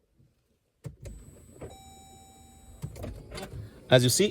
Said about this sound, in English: driver's seat is moving backward.